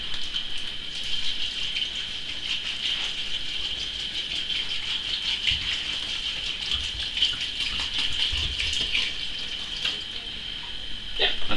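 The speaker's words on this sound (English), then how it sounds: "now I'm just gonna pour half of this water right in here for the" Water poured from a container into a glass demijohn for a nettle beer brew, a steady gushing trickle with a bright hollow ring as the vessel fills, close and continuous over about ten seconds.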